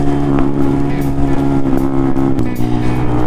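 A 2019 Honda Monkey 125 motorcycle's exhaust drones loud and close at a steady rumbling idle with slight rev swells, running continuously throughout.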